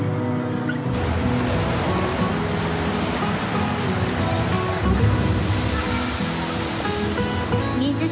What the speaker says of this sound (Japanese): 水しぶき浴びたみたいだね。屋内砂浜。